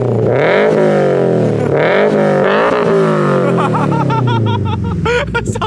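A 2022 Subaru BRZ fitted with UEL headers revs up several times, the engine note rising and falling in loud, rumbling sweeps, with people laughing and chattering over it.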